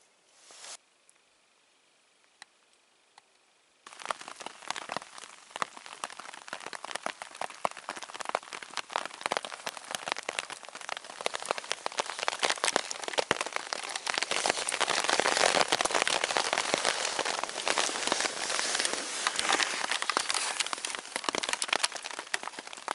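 Steady rain shower drumming on a camping tent, starting after a few quiet seconds and building into a dense, close patter that grows heavier toward the middle and continues to the end.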